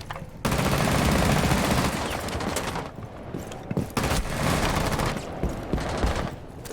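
Rainbow Six Siege firefight: bursts of rapid automatic gunfire, loud and close, broken by short pauses and several separate volleys with no talking.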